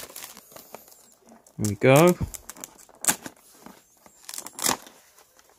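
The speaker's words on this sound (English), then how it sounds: "Get this cellophane off." Cellophane wrapping is crinkled and torn off a boxed 1/18 scale Joytoy action figure in short close bursts, with a person speaking briefly in between.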